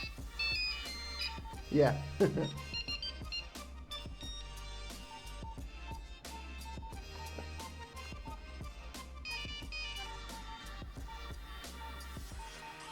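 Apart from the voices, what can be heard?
Nokia mobile phone ringtone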